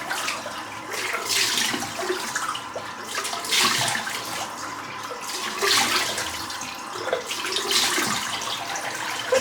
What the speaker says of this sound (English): Washing it off takes about 5 or 6 applications of water.